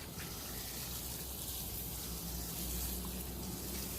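Liquid pours steadily into a beer brewing vessel with a continuous splashing gush and no voices.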